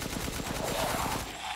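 Rapid automatic gunfire in the video game Resident Evil Village, a fast, evenly spaced burst of shots rattling for over a second, loud and up close, with no talking.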